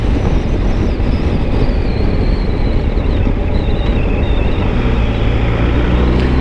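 BMW R1250GS motorcycle engine pulling steadily while riding at speed, a continuous broadband drone with rushing wind noise and a smooth upshift, loud and close throughout.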